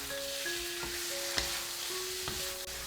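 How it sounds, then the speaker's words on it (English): Vegetables and mushrooms being stir-fried in mala sauce, a soft continuous sizzle with occasional spatula knocks against the pan, under a faint steady background hum. "Stir fry to make each piece covered with the sauce."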